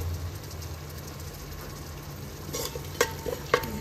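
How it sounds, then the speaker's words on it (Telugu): Yogurt is stirred into paneer biryani masala frying in a pan, a steady low sizzle under soft scraping, with a few sharper clinks of the spoon against the pan toward the end. "పెరుగు వేసుకోగానే కలిపేసుకోవాలి వెంటనే."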